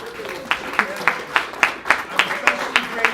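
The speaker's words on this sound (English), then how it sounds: "Let's give Anders one more round of applause." A small tech meetup audience claps in an even, rhythmic series of distinct hand claps, moderately loud and steady across the stretch.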